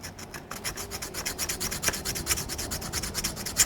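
A 320-grit sharpening stone rubs back and forth on a rifle part from an AR-15 build, a steady rhythmic rasping scrape repeated in quick strokes, close and fairly quiet with no talk.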